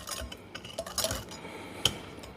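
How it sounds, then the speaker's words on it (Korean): A whisk scrapes and clinks against a mixing bowl while mocha bread batter is stirred, with light taps and one sharper metallic chink, fairly quiet and close. "휘스크로 해서 1분 정도 이렇게 저어주시면 좋습니다"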